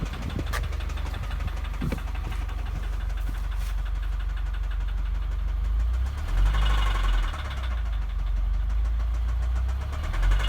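A 2015 Subaru WRX with an engine issue idles roughly and is given gas, the engine rising into a rev around the middle with a knocking, uneven tone, recorded close with no talk.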